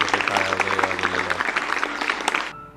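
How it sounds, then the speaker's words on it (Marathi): Children clapping on the set of a Marathi short film, a burst of dense applause for about two and a half seconds, close and even, with voices mixed in before it cuts off abruptly. "टाळ्या वगैरे वाजवलेल्या."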